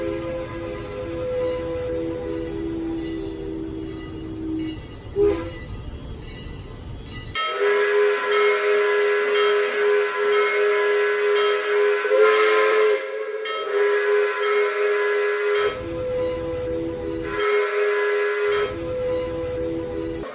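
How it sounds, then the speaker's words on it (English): Several long, steady steam whistle blasts from a Lionel O gauge Strasburg 89 model steam locomotive, sounding in bursts with short pauses, over a constant background hiss. "The whistle on this engine is something special."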